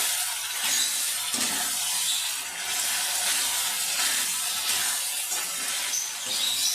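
Goat brain sautéing in a pan, with a steady hissing sizzle that holds at an even level and shows small rises and falls. Nobody speaks.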